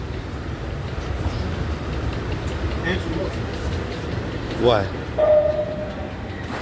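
An R211T G subway train runs express on the IND Crosstown Line toward Church Avenue, giving a steady rumbling roar with a brief rising squeal and a metallic whine. A voice speaks briefly over the noise.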